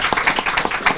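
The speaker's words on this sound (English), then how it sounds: "You clap more than a Liberal Democrat conference." Audience clapping at a discussion event on Libya, quick overlapping hand claps from a smallish group, close and fairly loud, with a brisk uneven rhythm over a short burst.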